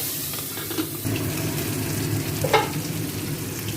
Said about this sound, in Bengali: মাছের তেলটা ভাজা হয়ে গেছে